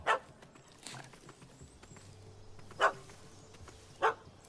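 Dog barking in The Witcher 3, three sharp, separate barks spaced a second or more apart over low game ambience, fairly loud and close.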